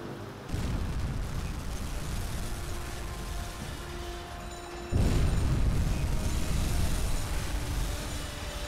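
Two torpedo hits explode against a C3 cargo ship in the submarine game UBOAT, on choppy seas: a deep rumbling boom starts early, and a second, louder blast follows a few seconds later, each trailing into a long roar.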